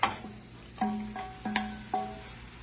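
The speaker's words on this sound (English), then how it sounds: "Give this one more stir." A spoon stirring a warm mustard, vinegar, honey, bacon and walnut sauce in a pan, four distinct scraping clinks against the metal at a slow, even pace, close and fairly quiet.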